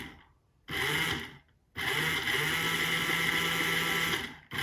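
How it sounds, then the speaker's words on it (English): A small DC motor controlled by a Raspberry Pi through an L298N driver spins with a steady whirring hum, starting and stopping in two bursts, the second running continuously for about three seconds. "the motor is rotating clockwise"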